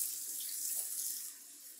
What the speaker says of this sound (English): Put water in it.